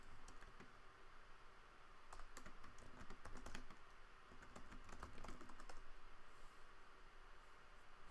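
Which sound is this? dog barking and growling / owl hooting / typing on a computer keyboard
typing on a computer keyboard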